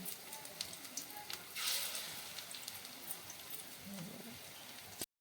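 Potato pakoras frying in hot oil at home, a steady soft crackling sizzle with scattered pops, faint and continuous throughout.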